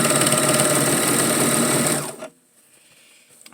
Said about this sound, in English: I'm now sewing that first sleeve to the last bodice that I just put on, so now it will be a complete circle.